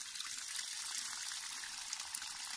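Brine drains off salted bracken fern in a steady, fairly close gush of pouring water, continuous and hissing with no talk.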